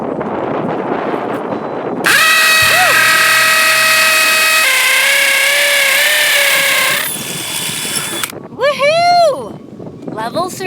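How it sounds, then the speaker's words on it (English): A loud power drill whines and grinds steadily for several seconds while boring into rock, changing pitch as it bites, then winds down with a few short revving bursts. "I'm hitting rock as I'm drilling."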